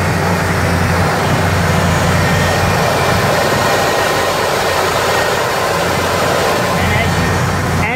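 A 1978 Ford Thunderbird V8 with a rebuilt carburetor and a suspected vacuum leak idles nearby, held at a raised idle, giving a steady, loud, even engine rumble and hiss throughout.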